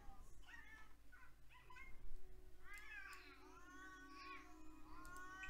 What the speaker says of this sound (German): Die Katze ist mir übrigens auch zu laut.